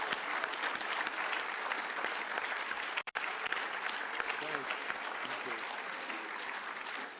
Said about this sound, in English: we ought to give Mr. Willie Brown a big round of applause